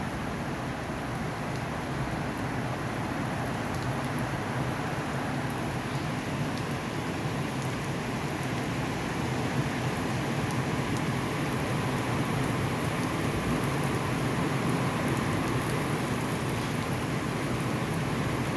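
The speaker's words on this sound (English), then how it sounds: "The raindrops. You can see it falling." Rain falls outside in a garden as a steady, even hiss of drops that holds a constant level throughout, with no voices.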